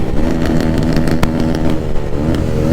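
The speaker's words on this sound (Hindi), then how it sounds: "आप लोगों को मैं हर ब्लॉग में एग्जॉस्ट सुना के ही मानूंगा" A Bajaj NS400 motorcycle fitted with an SC Project exhaust revs loudly and steadily at close range, its deep rumbling drone holding throughout with no talk.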